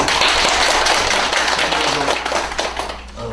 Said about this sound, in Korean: 박수 한번 해주시고